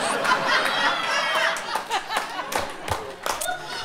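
Men in a comedy cabaret audience clap along with scattered chuckles and snickers, a lively burst of applause and laughter that thins out into separate claps and voices toward the end.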